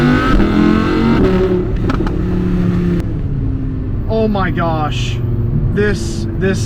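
An Audi R8 with a V10 engine accelerates hard through a turn on an open road, its loud engine note climbing in pitch and staying close throughout, with someone talking over it.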